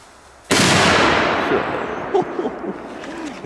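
A single sharp, very loud bang from a big Polish firecracker, followed by a rumbling echo that slowly fades, with faint voices afterward.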